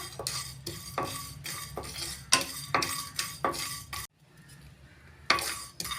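Cardamom, cinnamon, cloves and star anise dry-roasting lightly in a pan for chicken gravy, with a steady run of metal clinks and scrapes from stirring, a short quiet gap, then the stirring resumes.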